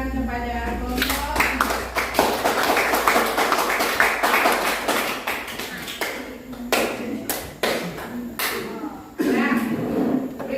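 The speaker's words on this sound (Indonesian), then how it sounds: "kita berikan tepuk tangan kepada kelompok" A classroom group gets a round of clapping from students, bursts of hand claps mixed with teacher and student talk, loud and close, rising and falling across the room.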